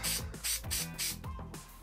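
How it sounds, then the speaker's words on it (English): Spray adhesive hisses from an aerosol can in about five quick, close bursts with brief pauses between them, used to glue 3D-printed layers of a flat penny change holder. "Just a little bit of spray adhesive."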